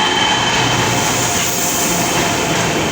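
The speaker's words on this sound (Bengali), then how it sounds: "ফাইনালি আমাদের ট্রেন চলে আসলো" Train pulling in at a railway platform, a loud, steady rumble of wagons and wheels close by with no talk.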